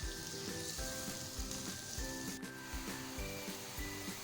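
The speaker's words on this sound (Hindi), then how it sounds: "अब प्याज को हम इतना फ्राई करेंगे कि प्याज में एक अच्छा सा गोल्डन कलर आ जाए।" Onions frying in a pan for dum chicken, a continuous close sizzle with faint stirring.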